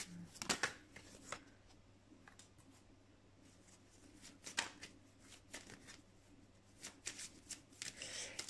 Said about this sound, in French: On va tourner les cartes évolution sentimentale